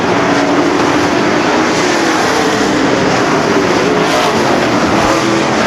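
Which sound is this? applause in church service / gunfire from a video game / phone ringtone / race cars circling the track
race cars circling the track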